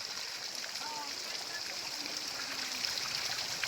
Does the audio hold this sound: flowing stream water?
yes